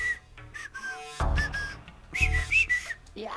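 Video game Oddworld: Abe's Exoddus whistling: short tuneful whistle phrases rising and falling, in two bursts over low background hum, no voices.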